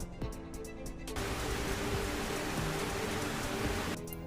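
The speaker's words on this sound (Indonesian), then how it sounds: "Ternyata di luar masih hujan deras." Heavy rain pours steadily outside at night, a dense, even hiss of downpour filling the scene for several seconds.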